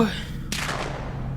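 A gunshot goes off in the horror video game Silent Breath, one sudden loud broadband crack followed by a long fading rumbling tail that fills the rest of the moment.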